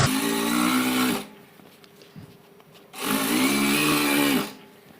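An electric sewing machine stitches fabric in two long, loud continuous runs separated by a quiet pause, its motor whirring steadily and close.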